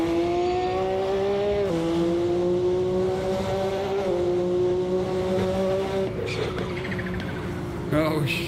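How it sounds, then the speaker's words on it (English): Racing car in the Assetto Corsa video game with a loud, steady turbocharged engine drone that shifts pitch at each gear change, plus short breathy hissing bursts from the turbo and blow-off valve near the end. "Sweet sounds of the turbo. Yeah, the blow-off valve is definitely nice on this."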